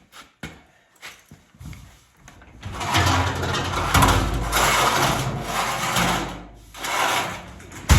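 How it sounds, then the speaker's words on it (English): An old Massey Ferguson tractor engine runs inside a shop, a rough mechanical chugging that rises after a few scattered knocks and clunks and keeps going loud and close, dipping briefly before picking up again. "It kind of works good for running my tractor in the shop."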